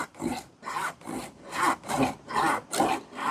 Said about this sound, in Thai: เลื่อยนี่มันบ่คมปานใดเขาว่า